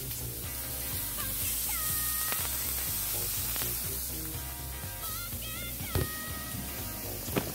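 Meat frying in hot olive oil in a frying pan, a steady close sizzle and crackle with a few brief clinks and pops near the end, no talking.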